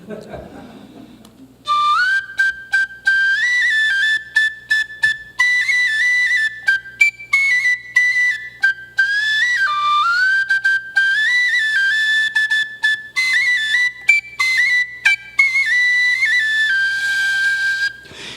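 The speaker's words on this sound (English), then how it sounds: "I don't get to play that much tin whistle" A tin whistle plays a lilting, ornamented melody alone, with bright sustained notes and quick grace-note flicks after a short quiet lead-in.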